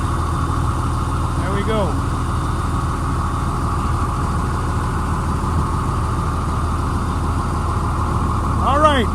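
A 2001 Sterling trash dump truck idles steadily as its bed lowers, a constant mid-low engine drone with faint hydraulic whines rising near the start and end, while someone talks briefly over it.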